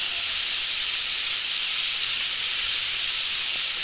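Squid with garlic sizzles in a hot pan as it is stir-fried, a loud, constant bright hiss without pause and no voices.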